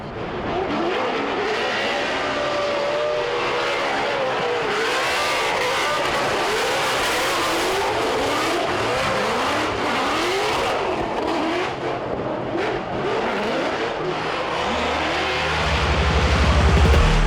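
A Ford Mustang drift car on a Formula Drift run, engine screaming and revving continuously with shifting pitch and tire noise, loud and sustained throughout, swelling at the end.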